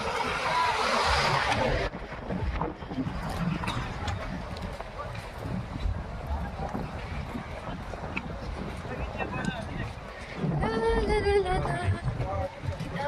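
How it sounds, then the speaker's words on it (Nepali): Wind gusts near the bridge over the Karnali river make a rumbling, buffeting roar that rises and falls throughout, with voices briefly heard near the end. "कस्तो हावा मजाको चलिरहेछ यता।"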